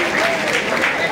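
Audience applause at a blood donation camp and student felicitation event in Madhyamgram, a short steady burst of clapping with voices mixed in.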